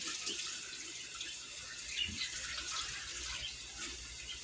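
Cooked pasta rinsed under a running kitchen tap, with a steady close rush of water splashing into a sink and colander throughout, and no talk.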